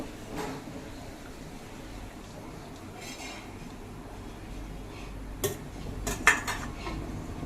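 Butter garlic rice being mixed in a pan, a spoon scraping and clinking against the metal in a few soft strokes, with a couple of sharper knocks near the end.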